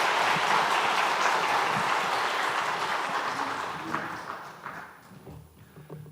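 Church congregation applauding during a Korean Sunday worship service: a full room of clapping that starts loud and gradually thins and fades out over several seconds.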